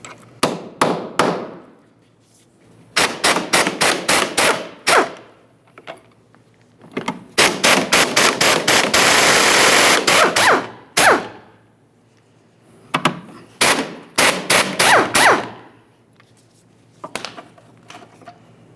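Ratchet or impact tool removing three 13 mm nuts from a rear bumper bracket on a 2012-2018 Nissan Altima, heard as several close, loud bursts of rapid clicking separated by short pauses, with one longer sustained whir in the middle.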